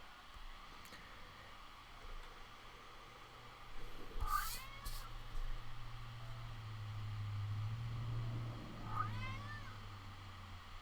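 An elderly, senile cat lets out two loud, drawn-out meows several seconds apart, standing out from a quiet room with a steady low mechanical hum.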